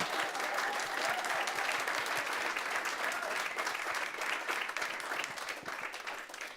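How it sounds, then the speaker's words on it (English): Steady applause from the audience at a city council meeting honoring a community food pantry group, a thick wash of clapping that holds evenly and tapers slightly near the end. "let's give all of them a round of applause"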